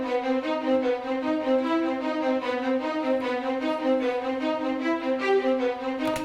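A sampled Cine Strings first-violin section plays a short-articulation ostinato: a steady, rhythmic run of crisp, repeated bowed notes, alone and clear throughout.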